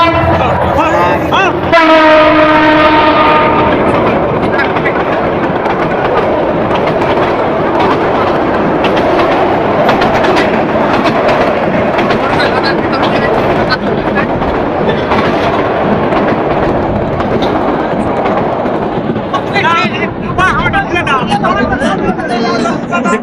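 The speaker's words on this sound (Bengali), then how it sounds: "এখানে একবারে ট্রেন চলে গেল" A train horn blares, then a long train rumbles and clatters past close by for many seconds through a busy Eid cattle market at a railway station, with a crowd chattering throughout.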